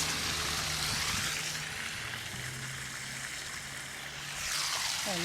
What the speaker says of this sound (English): And water is flowing.